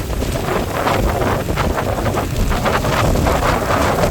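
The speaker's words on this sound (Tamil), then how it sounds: "காற்று சும்மா வேகமாக அடிக்குது" Strong wind buffets steadily across the microphone in Jaffna, a loud, continuous roaring rush with gusty swells and no voices.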